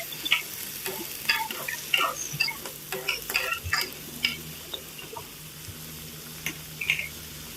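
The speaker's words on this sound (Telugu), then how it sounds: "ఉల్లిపాయలు 2 మినిట్స్ బాగా వేయించిన తరువాత అందులోకి ఇందాక కోసి పెట్టుకున్న టమాటా ముక్కల్ని వేసి కొంచెంసేపు వార్చాలి" Onions and tomato pieces frying in a pan under a soft sizzle, punctuated by repeated scraping, clicking stir strokes of a spoon, close up and without any talking.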